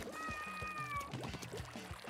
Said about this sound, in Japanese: 猫ちゃんも来た。